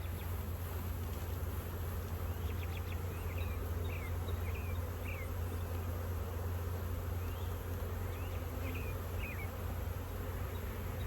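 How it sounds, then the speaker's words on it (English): A dense, steady drone of honey bees comes from frames pulled from a hive and shaken off. A constant low hum runs under faint, scattered chirps, with no pauses. "There's a lot of bees here."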